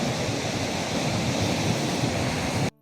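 Sea waves roll in on the Mullaitivu shore, a loud, continuous wash of surf with wind buffeting the microphone, cutting off abruptly at the end.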